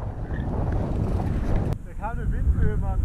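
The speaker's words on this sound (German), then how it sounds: "Ah, sieh die Windböe." Wind gusting across a mountain bike park at Livigno, a loud continuous roar buffeting the microphone for the first half, then dropping away as a voice speaks over lighter wind.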